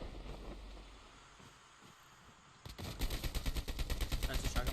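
A shotgun fires repeatedly in a Call of Duty Mobile battle royale match, a rapid string of sharp, evenly spaced shots starting midway and continuing loud and close after a stretch of quieter game ambience.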